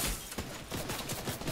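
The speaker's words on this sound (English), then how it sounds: "Where is this guy shooting me from?" Enemy gunfire in a video game, a scatter of quick shots at irregular intervals, fairly faint and somewhat distant.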